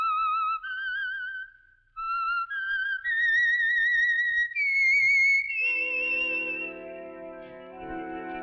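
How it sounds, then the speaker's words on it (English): A lone whistler carries the signal tune of The Whistler radio program, a rising, wavering melody of clear notes, closing over a swelling orchestral chord. "Let that whistle be your signal for the Signal Oil program, The Whistler"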